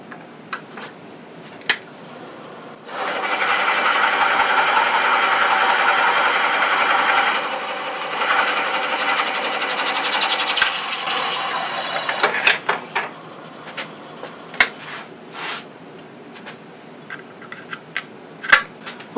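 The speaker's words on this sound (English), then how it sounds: "bore in from this side until I" A drill or boring tool cuts steadily into a button-style Christmas ornament, a sustained whirring grind lasting several seconds, pausing briefly, then continuing before stopping, followed by scattered light taps and handling sounds.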